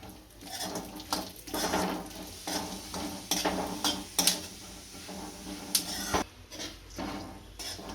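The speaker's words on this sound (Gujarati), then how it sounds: "આને શેકી લેશું." Ingredients being roasted in ghee in a pan while a spoon stirs, with soft sizzling under repeated scraping strokes and clinks against the metal, close and continuous for several seconds without speech.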